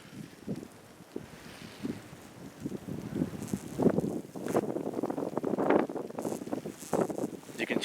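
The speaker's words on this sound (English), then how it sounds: "It's just driving wind." Strong driving wind buffets the microphone on a snowy beach in winter, with irregular gusts that build and grow louder toward the end.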